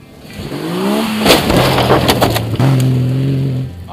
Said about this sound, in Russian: Сейчас будет следующая машина.